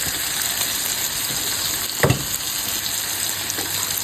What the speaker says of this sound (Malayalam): ആ ഉള്ളി അങ്ങനെ ഒന്ന് വാടി വന്നിട്ടുണ്ട്